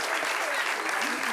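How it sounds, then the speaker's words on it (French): Audience applause in a French-language television talk show studio, a steady dense wash of many hands clapping through the whole short stretch with no pauses. "Merci d'applaudir très fort"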